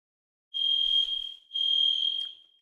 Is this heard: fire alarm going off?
yes